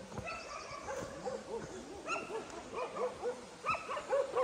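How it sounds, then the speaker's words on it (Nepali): Several dogs bark and yip repeatedly at a sheep shed on a mountain trek, the barks coming in uneven bursts from a moderate distance with no talk over them. "ए कुकुर भोकेको छ है, मलाई डर लाग्छ पस्नु।"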